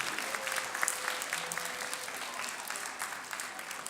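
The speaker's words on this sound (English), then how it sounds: "Let's clap for Bright Horizons Teal Square." Children and an audience applaud a childcare center group at a Week of the Young Child event, a steady dense patter of many hands, fairly faint and even throughout.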